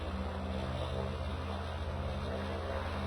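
An airliner taxiing in the PTFS flight game, a steady engine drone with a constant low hum and a fixed high whine, even and unbroken for the whole stretch with no talk.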